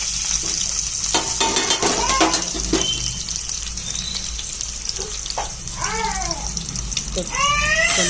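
Mustard seeds, onion and green chilies frying in a pan in a small room, a steady sizzle with stirring scrapes, overlaid by children's chirpy voices and brief tap-like splashes.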